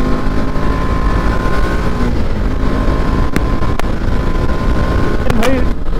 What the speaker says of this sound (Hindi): ये देखो BMW की M Sport जा रही